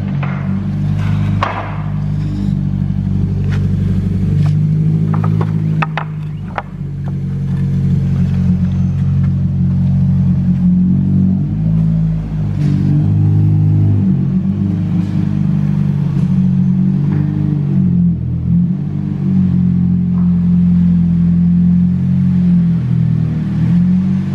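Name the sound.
car being driven into a garage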